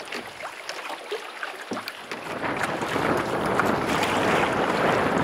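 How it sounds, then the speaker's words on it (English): Wind blows across open water during a winter canoe trip at the Hopewell Cape rocks, a broad steady rush that starts moderate and swells louder and fuller over the seconds, with no talking. "the wind just shifted and is now at my back"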